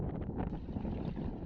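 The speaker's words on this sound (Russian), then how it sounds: "Погода сегодня очень ветреная." Strong wind blowing steadily on a Siberian river during a catamaran trip, a dense, continuous low rumble of gusts buffeting the microphone, loud and unbroken with no voices.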